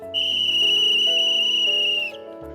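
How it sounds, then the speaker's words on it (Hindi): Loud, steady whistle blown near the listener for about two seconds, sustained at one pitch before stopping, with lower tones underneath, as villagers including women, men and children march along blowing whistles. "महिलाएं, पुरुष और उनके साथ में कई बच्चे सीटी बजाते हुए निकल पड़ते थे।"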